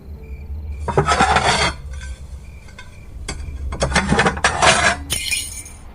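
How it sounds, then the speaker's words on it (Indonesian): Objects clatter and fall in a kitchen: bursts of clinking glass, dishes and metal crashing in two loud waves, with quieter rattling between. "tiba-tiba dari arah dapur terdengar suara barang jatuh"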